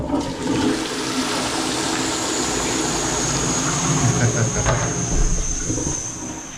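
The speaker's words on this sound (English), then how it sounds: "This is a proper way to flush a toilet." A toilet flushes loudly and close by in a public restroom, a sustained rushing, hissing surge of water that swells and then begins to taper off over several seconds.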